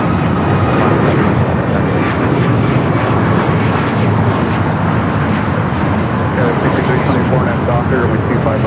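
Airliner at LAX bound for Cabo, a steady broad jet roar filling the whole stretch at close, loud range, with voices talking over it.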